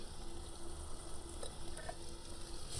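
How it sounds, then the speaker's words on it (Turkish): Onions sautéing in a pot for creamy cauliflower soup, a soft continuous sizzle with faint stirring scrapes, quiet and steady with no talking. "Şimdi soğanlarımız biraz soteleniyor."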